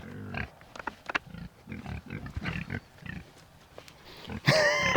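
Pigs grunt and snort close by in short bursts, ending with a loud squeal.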